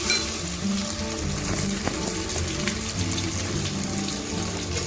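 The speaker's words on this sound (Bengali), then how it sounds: "এবার দিয়ে দেব টমেটো কুচি" Chopped tomatoes hit a pan of frying ginger and are stirred, giving a constant wet sizzle and hiss with occasional scrapes and clinks up close, and nobody speaks.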